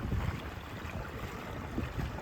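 A boat motors in across open water to pick up a fishing crew, heard as a faint, steady rumble mixed with wind and water noise.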